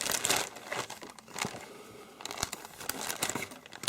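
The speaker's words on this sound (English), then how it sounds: "So I haven't even opened up these bags; they're still sealed. So let's open up and take a look." Sealed plastic bags from a HobbyBoss 1/48 P-38L-5-LO model kit being torn open and handled: quiet, close crinkling and rustling in irregular bursts, with brief sharp tearing snaps.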